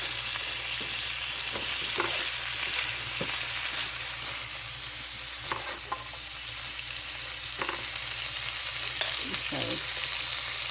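Pakbet vegetables fry in a pan with a steady, close sizzle while a utensil stirs them, giving occasional scraping knocks and clacks over the continuous crackle.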